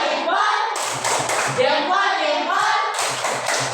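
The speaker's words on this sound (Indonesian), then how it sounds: "Kita tepuk salut dulu untuk temanmu yang sudah berbicara panjang sekali" Schoolchildren in a fifth-grade class perform a rhythmic salute clap for a classmate, sharp patterned claps and taps in bursts, mixed with children's voices chanting along.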